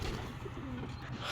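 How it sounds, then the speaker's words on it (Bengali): Pigeons in a rooftop loft coo softly and steadily in a low, continuous murmur, with no voices present. "আমার ভাইয়ের ছেলে শিফাত ওই কবুতর পালে, সেগুলো আদার দেওয়ার জন্য উপরে উঠছি।"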